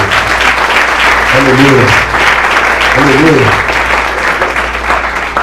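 A church congregation at a Portuguese-language worship service claps in sustained, loud applause throughout, while a voice calls out over it.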